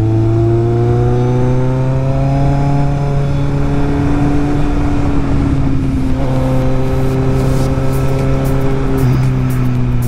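A motorcycle, either a Kawasaki Z800e or a Yamaha XJ6, accelerates steadily on a ride, its engine note climbing through the gears with a brief shift dip, loud and close over constant wind rush.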